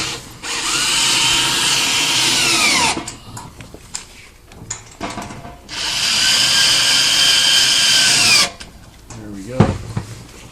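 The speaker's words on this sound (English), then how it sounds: "I'm going to use the Allen wrench to hold while he tightens with the drill" A power drill tightens bolts on a metal chair in two sustained whirring bursts of about three seconds each, with quieter clatter and handling noises between them.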